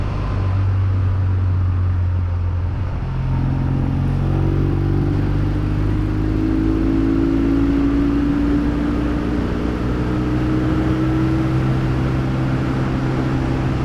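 A 1978 Triumph Bonneville T140V motorcycle accelerating hard without a gear change, its engine note climbing steadily in a loud, continuous drone.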